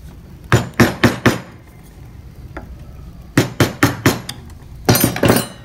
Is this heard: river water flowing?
no